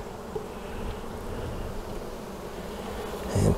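A dense, steady hum of honeybees buzzing close around loose honeycomb at a hive, continuous and alone, with a brief louder rustle at the end.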